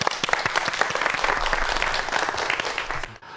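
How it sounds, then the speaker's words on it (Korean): Audience applause welcoming a professor's lecture on hanok architecture at a science talk event, a steady dense wash of many hands clapping that runs for about three seconds, then cuts off abruptly. "박수 부탁드립니다."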